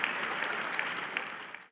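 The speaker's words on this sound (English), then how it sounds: "I'd like all of us to please kindly give a round of applause to the board and management of this bank" Audience applause for a bank's board and management at a shareholders' annual general meeting, a short stretch of steady, dense clapping from a large crowd.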